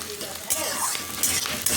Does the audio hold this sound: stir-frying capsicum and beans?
yes